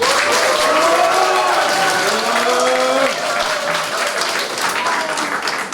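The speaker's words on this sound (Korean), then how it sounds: "우리 석탄 선생님 정말로 큰 박수로 선생님을 존경하는 마음으로 환영합시다" Sustained audience applause at a Korean art exhibition opening, welcoming a teacher, with several voices talking and calling over the clapping before it eases slightly midway.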